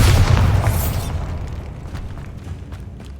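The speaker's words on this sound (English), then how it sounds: "Bombarda." Bombarda explosion spell cast in Hogwarts Legacy, a loud, close booming blast that hits at once, then rumbles and decays over about three seconds with scattered debris crackles.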